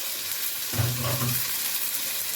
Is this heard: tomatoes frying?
yes